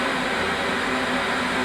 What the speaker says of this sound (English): Sorry for the noise, I got the burko on, sparge water